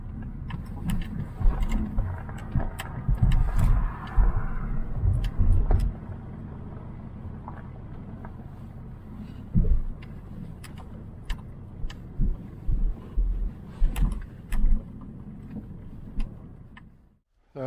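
A car pulls in and parks at a country house estate: low engine rumble for the first several seconds, then idling quieter, followed by scattered clicks and thumps of keys and doors before it goes silent.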